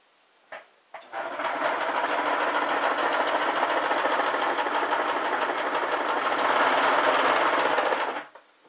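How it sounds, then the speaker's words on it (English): A sewing machine stitching a quilt runs steadily for several seconds after a couple of small clicks, its rapid mechanical whir loud and close, then stops. "you're going to position your quilt, and you're just going to start to sew"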